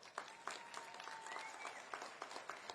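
An audience at a teacher of the year awards celebration applauds the school board. Steady, moderately distant clapping with sharper individual claps throughout, and no talking over it.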